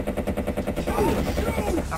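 Assault rifle gunfire in the video game Battlefield 1942, a rapid regular burst of shots repeating about every tenth of a second, close and loud, running under a voice.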